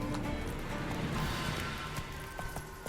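A horse gallops in the video game The Witcher 3: Wild Hunt, steady hoofbeats pounding under a dense wash of ambient game sound and music for a few seconds.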